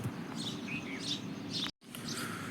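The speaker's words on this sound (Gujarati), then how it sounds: "સવારમાં ચકલા ચકલી બોલે છે" Sparrows chirping in short, scattered tweets at about 6:30 in the morning over a steady outdoor background hum, moderately near, with a brief dropout near the end.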